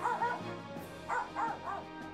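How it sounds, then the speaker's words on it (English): A dog indoors barks several times in short bursts, two early then three close together, near and fairly loud, with faint background talk. "Shush, dog!"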